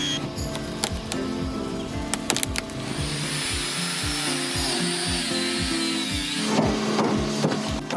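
A grinder cutting holes in the side of a fiberglass boat hull, a high whining power-tool drone with rough grinding and scraping, preceded and followed by clattering knocks and thumps, close and loud.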